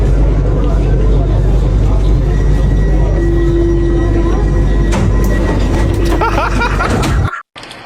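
Loud, steady rumble of a subway train in motion fills the carriage for several seconds, with a sustained tonal whine over the roar, before the sound cuts out abruptly near the end.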